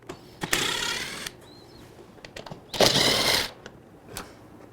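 A ratchet with a 10mm socket loosens two bolts on a 2018-or-later F3 Limited top case. It gives two close bursts of rapid clicking separated by a pause, with a few light taps in between.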